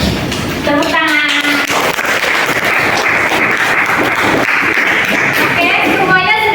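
Classroom applause as a group of pupils claps steadily for several seconds, a dense, even patter filling the room, with voices briefly audible at the start and end.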